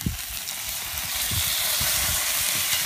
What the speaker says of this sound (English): once that's sizzling away